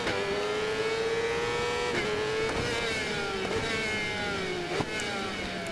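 A Yamaha R6 motorcycle races hard in Ride 4, its engine holding a steady, loud high-revving whine with brief dips at gear shifts, close and alone.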